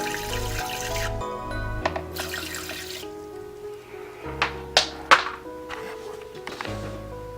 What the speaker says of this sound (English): And then I add a little bit of water to her water dish.